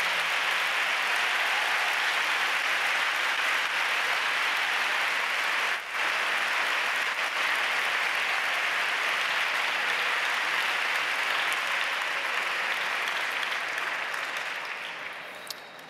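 Sustained applause from a large crowd in a sports hall honouring teachers at an education event, a long steady wash of clapping that fades slightly toward the end.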